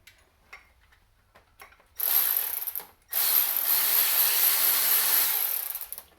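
A Makita power tool drives a short bolt on a shop-built chip guard for a column mill, with a long close, loud burst after a brief run and pause, following faint clicks and handling.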